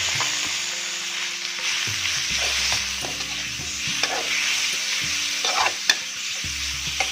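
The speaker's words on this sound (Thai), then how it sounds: "ใส่เนื้อหมูที่เราหั่นไว้ลงไปเลยค่ะ" Pork sizzles and crackles in a hot pan while being stir-fried for a sweet and sour cucumber dish, a steady close frying hiss with scraping stirs and occasional pops throughout.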